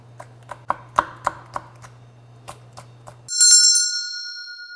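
Deseeded Cheongyang chili peppers are chopped with a knife on a board for nabak kimchi, giving about a dozen crisp, evenly spaced taps that slow and fade before a bright electronic chime rings out.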